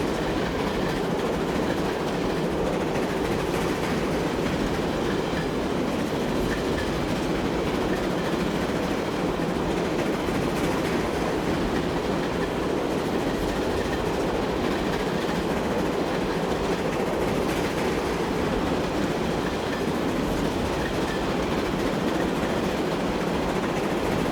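A semi-fast Pullman passenger train in Transport Fever 2 rolls along steadily, its loud, unbroken rumble carrying a faint rhythmic clickety-clack of wheels on rail joints, with no talking.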